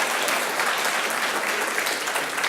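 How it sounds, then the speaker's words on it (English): An audience bursts into steady, sustained applause as a person comes through the door, dense close clapping with no voices over it. "I got a clapping ovation for coming through the door"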